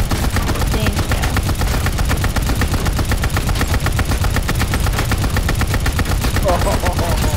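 Dense automatic gunfire rattles nonstop in a fast, loud barrage as players shoot at a turret in a shooter video game, heavy and continuous from start to finish, with a faint voice underneath.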